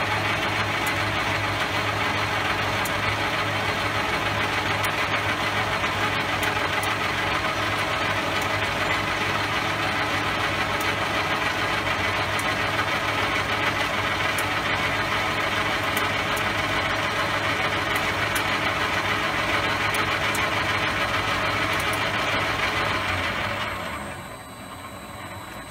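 An Elliott 14S lathe runs steadily with its feed engaged, a continuous mechanical hum and whir with faint ticking that holds even for the whole stretch before winding down at the very end.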